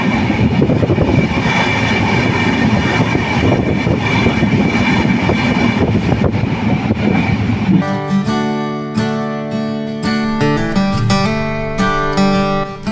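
The Kapotaksha Express, running between Khulna and Rajshahi, roars past loud and close with a steady rumble, then rhythmic wheel clatter and a droning, tonal hum as the carriages roll by.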